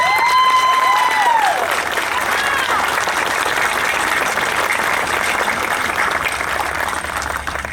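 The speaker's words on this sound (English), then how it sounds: "Please, a big round of applause for Bob Bumpus." Audience applause at an aviation heritage park grand opening, a dense sustained clapping from a sizeable crowd lasting the whole stretch and fading slightly at the end, with a voice briefly audible over it at the start.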